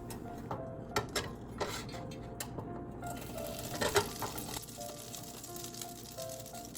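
Butter sizzling softly in a pan on a kitchen stove, a steady low crackle with faint ticks and a few louder clinks of utensils, no voices.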